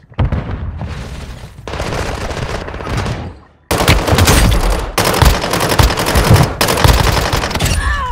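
Rapid automatic gunfire rattles in dense, loud bursts in Warzone Mobile, broken by short pauses and booms after a stun grenade is thrown, with no talking.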